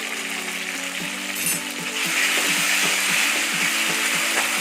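Fish curry masala with chili powder sizzles in hot oil while a utensil scrapes and stirs it in a steady, repeated rhythm, close and continuous, with no voices.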